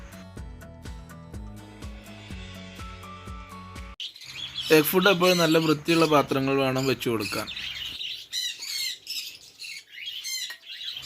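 Pet birds chirp and squawk in busy, rapid bursts while being fed soft egg food. The calls follow a stretch of music, and a person talks over them.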